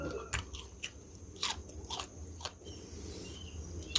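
Crispy eggplant is bitten and chewed alongside a Thai pounded chili-and-fermented-fish dip, giving several close, sharp crunches spread through a few seconds over a low background hum.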